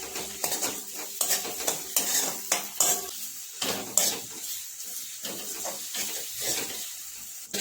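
Onion and tomato frying in a pan for ragda chaat, with a steady sizzle under repeated clinks and scrapes of a spoon stirring against the metal, close by and fairly loud.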